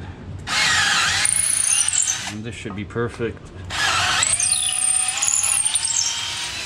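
A power drill whines loudly in two long bursts while drilling holes for a kayak transom mount bracket, with a short pause between where a voice speaks briefly.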